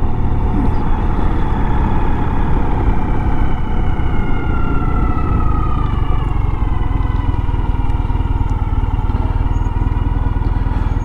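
A Ural Retro sidecar motorcycle rides along on a warm spring day, its engine droning steadily and loudly with wind and road noise throughout, with no pauses.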